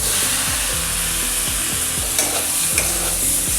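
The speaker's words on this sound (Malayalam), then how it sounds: "നന്നായി ഒന്ന് ഇളക്കി കൊടുക്കാം." Chicken and onions sizzle loudly in a frying pan for Kerala-style chicken stew while a spoon scrapes through them in a quick, repeated rhythm of stirring strokes, close and prominent.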